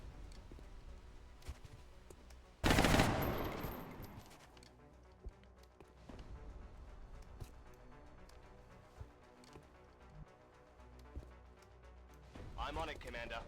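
A single loud gunshot rings out in the video game XCOM Long War, a sharp blast with a ringing tail, followed by quieter game sounds, clicks and a short burst near the end, with a voice present.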